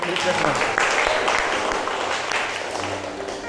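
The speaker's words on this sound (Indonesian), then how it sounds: "Aplaus dulu semuanya" Students in an Indonesian teaching-practice classroom give a sustained round of applause for the presenting student groups, a dense steady patter of many hands clapping close by that eases slightly toward the end.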